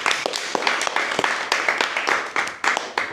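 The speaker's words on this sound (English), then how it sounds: "Let's give our speakers a round of applause." Audience applause for speakers at a fellowship gathering, a brief burst of close, distinct hand claps with an uneven rhythm, loud and without talk.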